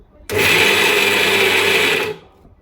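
A mixer grinder whirs through peanuts and garlic in one loud, close burst of about two seconds, a dense buzzing roar that starts abruptly and cuts off cleanly.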